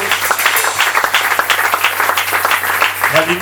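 Congregation applauding and cheering at a pastor's ordination service, a dense, steady wash of many hands clapping throughout, with crowd voices mixed in.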